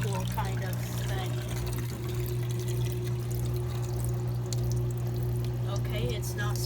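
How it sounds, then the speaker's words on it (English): Water drained from a Whirlpool washer pours into a sink and swirls down, a steady close rushing trickle under a low appliance hum, with a voice speaking over it. "a whirlpool washer caused the sink to make a whirlpool kind of thing"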